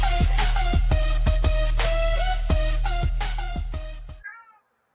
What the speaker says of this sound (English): Whoa! Studio Cat!